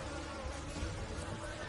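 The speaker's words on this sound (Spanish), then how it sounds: "No aguanto más a estas moscas castigando a mi pueblo" Swarming flies plaguing a village, a faint, continuous buzzing hum that wavers slightly in pitch and holds steady throughout, with no one speaking.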